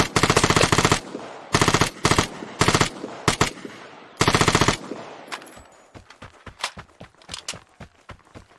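Automatic gunfire in the multiplayer shooter Vigor: loud, close bursts of rapid rounds start and stop repeatedly, then give way to quieter scattered thuds and footsteps.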